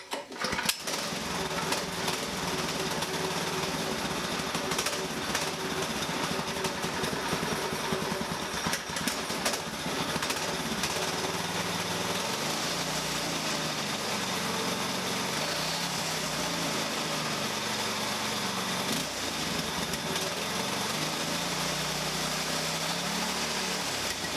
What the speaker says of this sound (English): now we're going to start this thing up and see if we can hear a difference.